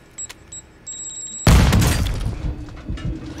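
A few faint beeps sound before a sudden loud explosion bursts in the Warzone video game, its rumbling debris tail decaying over the next two seconds.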